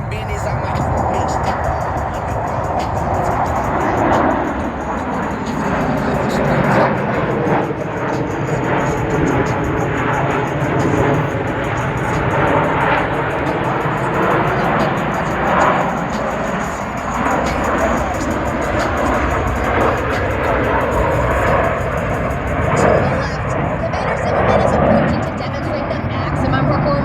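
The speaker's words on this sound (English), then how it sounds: "Showcasing the Super Hornet's turbo nose low capability." A Blue Angels F/A-18 Super Hornet jet roars overhead at the Columbus airshow, a long, loud, rushing engine sound that rises and falls as it passes, with people talking over it throughout.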